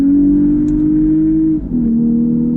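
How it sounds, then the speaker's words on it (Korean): Naturally aspirated Lexus IS 350 engine, loud and close, holding a steady high-rev exhaust drone before the pitch drops briefly and settles again, with no talking. "렉서스 350의 선형적인 출력 특성을 끝까지 끌어올리면 정말 멋진 포효 소리가 나옵니다."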